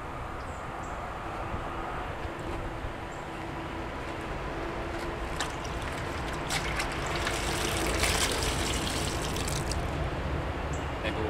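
Water mixed with Murphy's Oil Soap swishing and trickling while a gun is cleaned, a faint steady wash with some scrubbing and clinking that grows busier toward the end.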